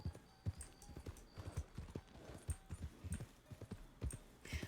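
Horse hooves clip-clop in the video game Red Dead Redemption 2 (RedM roleplay), a quiet, steady walking rhythm of hoofbeats close up, with a faint snort near the end.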